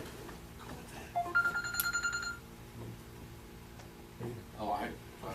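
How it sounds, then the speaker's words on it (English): A mobile phone rings during a city council meeting, a brief burst of bright electronic ring tones heard close, followed by people talking. "Oh, my phone was on."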